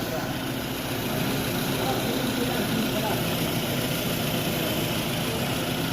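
Newly overhauled Toyota Camry engine idling steadily with a smooth, even low rumble and hum, constant level with no knocking, while people talk in the background.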